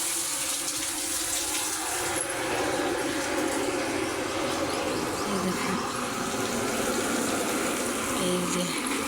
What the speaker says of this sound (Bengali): মোটর চালিয়ে দিয়ে অ্যাসবেস্টারের উপরে জল ঢালছে আমার ছেলে।